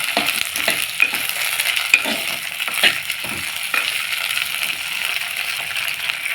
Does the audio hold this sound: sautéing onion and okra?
yes